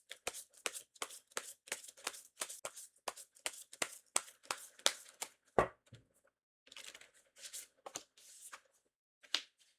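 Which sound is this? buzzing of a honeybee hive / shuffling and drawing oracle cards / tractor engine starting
shuffling and drawing oracle cards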